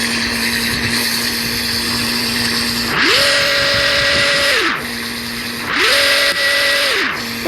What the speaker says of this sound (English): my 23rd car is this Apollo Project Evo. Take a listen to its sound.